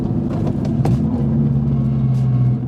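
A turbocharged 8th-generation Honda Civic downshifts while driving, its engine drone shifting pitch with a brief throttle blip, heard steadily and fairly close from inside the car without voices.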